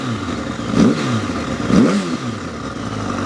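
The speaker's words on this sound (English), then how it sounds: "See what this Graves pipe sounds like." A Yamaha R7 fitted with an R1 engine and a Graves exhaust pipe revs twice in quick blips, each rising and falling sharply over a steady idle, close and loud.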